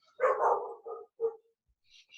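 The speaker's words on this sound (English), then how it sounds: "That's why I was holding him, to keep him from barking" A dog barks indoors during a home religious service, a loud close burst followed by two shorter yips and then quieter high whimpering sounds.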